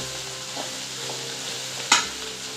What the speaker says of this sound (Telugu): ఇలా కలిపేసి ఇప్పుడు మనం టమాటాలు వేస్తాము